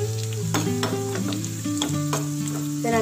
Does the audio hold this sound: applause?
no